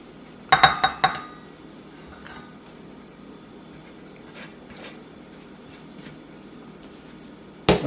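Galouti kebab ingredients being mixed in a bowl, with a quick burst of clinking bowl-and-utensil knocks at the start, then quiet soft handling, and a final clatter at the end.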